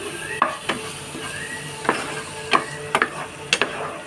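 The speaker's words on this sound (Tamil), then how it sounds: "ஸோ இப்போ வந்து நம்ம டொமேட்டோ அரைச்சது சேர்த்துடலாம்." Ground tomato is added to a sizzling crab gravy masala and stirred, giving a few scattered spoon scrapes against the pan over a soft, steady frying hiss, with no talk.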